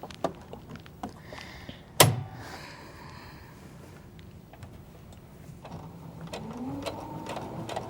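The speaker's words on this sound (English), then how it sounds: "And we're going to have Leah sew down one side seam." A sewing machine stitches down the side seam of a simple skirt with a faint, close whir, preceded by a few sharp clicks and a louder knock, and no talk.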